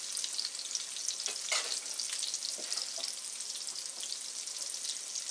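Pecan-crusted goose pieces frying in a pan, a constant close sizzle with crackling pops and spits, with no talk.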